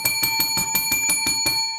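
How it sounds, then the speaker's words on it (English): A handheld bell rings rapidly and steadily, about a dozen bright metallic strikes in quick succession with a sustained ringing tone, close and clear with no talking. "Where's my bell? I need my bell."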